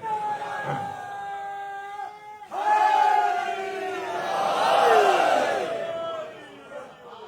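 Congregation at a Karachi majlis gathering shouting a religious slogan in unison, several loud swelling group cries rising and falling with the hall's reverberation.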